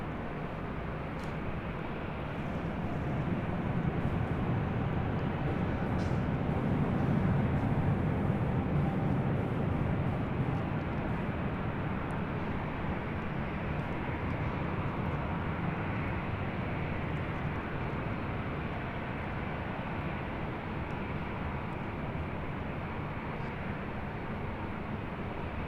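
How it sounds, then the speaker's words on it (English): A Delta Airlines heavy airliner takes off at LAX, giving a steady, loud, broadband jet roar that swells slightly midway and holds without pause, with no voices. "This is Delta Airlines 290 Heavy taking"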